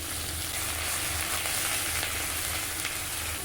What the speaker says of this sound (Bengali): মশলাটাকে ভালো করে কষিয়ে নেব।